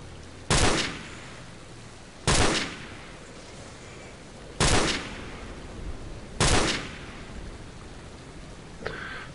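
Gunfire in the video game STALKER comes as four loud, evenly spaced single shots over steady background noise, followed by a fainter sound at the end.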